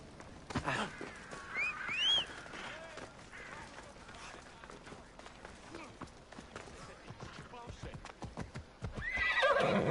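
Hoofbeats of a galloping horse with repeated neighs and whinnies in the game Assassin's Creed Odyssey, clip-clop rhythm running throughout, with game voices and music layered over it.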